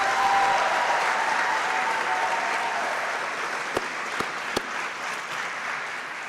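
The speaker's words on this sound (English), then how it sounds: "let's give the newest members of the National Youth Guard a rousing round of applause" A large crowd at a National Youth Guard graduation ceremony applauds, a broad steady wash of clapping heard from a distance, with a few sharp knocks near the end.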